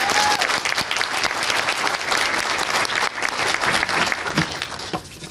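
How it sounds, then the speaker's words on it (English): Audience at a school career-technical and military signing day applauding: dense, sustained clapping from a large crowd, loud and steady throughout, easing slightly near the end. "But please give him a round of applause"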